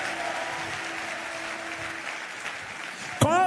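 Audience at a French worship gathering applauding and cheering, a sustained wash of clapping and voices across the whole stretch, with a sharp burst near the end.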